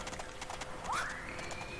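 Horse hooves clop softly and steadily in the PS1 game Mary-Kate & Ashley Winner's Circle, on a trail ride, with a brief rising whoosh partway through.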